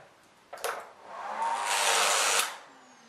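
A circuit breaker hums with a rising electrical buzz under an overcurrent test, swelling to a loud sustained tone for about a second before cutting off abruptly as it trips, close and alone.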